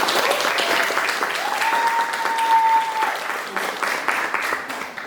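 Sustained audience applause at a school talk-show event honouring a student's national olympiad gold medal, steady clapping with a held whistle-like tone partway through.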